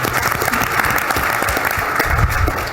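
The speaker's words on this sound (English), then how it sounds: "let's give a big round of applause for the man of the hour." A roast audience bursts into applause, sustained dense clapping filling the room for a few seconds without talk.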